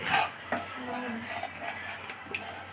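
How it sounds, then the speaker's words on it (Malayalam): Cloves, fenugreek seeds and coriander frying in hot oil: a close, steady sizzle with light clinks of a metal utensil and a voice talking over it. "ചൂടായ എണ്ണയിലിട്ട് വറുത്ത് വറുത്ത് വറുത്ത്"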